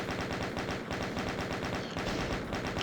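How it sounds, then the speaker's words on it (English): Rapid sustained chain gun fire from the video game DOOM, a dense steady stream of rattling shots lasting the whole time, loud and close with a brief gap near the middle. "Chain gun, I guess, at this point."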